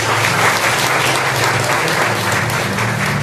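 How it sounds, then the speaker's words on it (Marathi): Loud, sustained applause from a church congregation at a Sunday service in Jaysingpur, steady dense clapping filling the whole moment without a break. "पुन्हा एकदा जोरदार टाळ्या"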